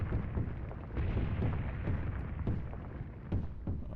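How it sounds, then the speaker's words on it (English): Mortar shells explode in the war game Graviteam Tactics as a continuous rumbling barrage of deep, overlapping booms, steady and fairly distant, with no voices. "It does sound like they did change the sound of the mortars."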